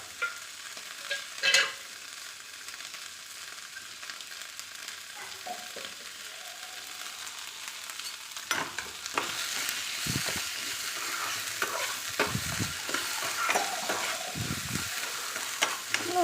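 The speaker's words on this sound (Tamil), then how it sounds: "அதையும் சேர்த்து நல்லா வதக்கிக்கலாம்" Mint and coconut sauté in a pan, a soft sizzle at first, then louder sizzling broken by repeated scraping stirs in the second half, with no voices.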